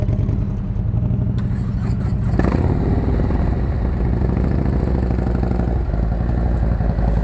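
Motorcycle engine and exhaust pipes running steadily during slow-speed riding practice in California, a loud continuous mid-pitched drone with slight throttle swells and no break across the whole stretch.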